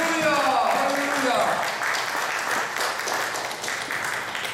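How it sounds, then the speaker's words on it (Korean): A congregation at a church inauguration thanksgiving service gives a warm, sustained round of clapping that carries on for several seconds at a steady, fairly loud level. "자, 다시 한번 뜨겁게 박수로 영광 드립니다"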